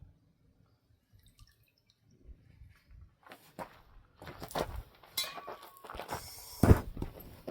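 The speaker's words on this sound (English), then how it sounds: "We shall soak this in fuel." Fuel poured over an engine part outdoors, ready for a fire test: a quiet start, then irregular splashes and drips that grow louder and denser, with no talking.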